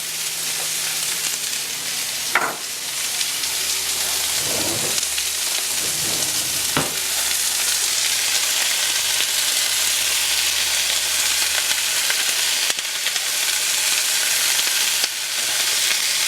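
Asparagus with butter in a pan on low heat: a steady, loud broadband sizzle of frying runs throughout, with a few brief clinks and scraping stirs in the pan, no talking.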